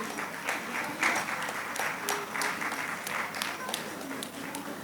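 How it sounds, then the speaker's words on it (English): An audience at a law conference in Nigeria applauds steadily, a dense wash of clapping that continues throughout without a break. "Please, let's give a warm applause to"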